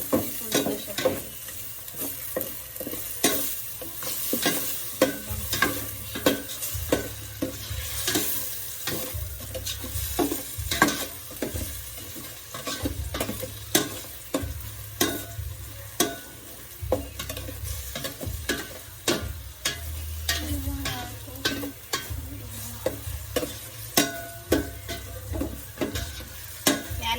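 Salmon sinigang being stirred in a pan, a steady sizzle with repeated scraping strokes of a utensil against the metal in an uneven rhythm, close and clear without speech.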